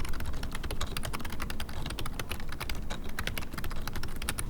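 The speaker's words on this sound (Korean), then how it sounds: "타건 소리 들어보시면 아시겠지만 약간 미세한 소음이 있기는 합니다" Continuous fast typing on a Logitech Wave Keys ergonomic keyboard, with rapid, fairly soft key clicks and taps running evenly throughout at close range, no voices.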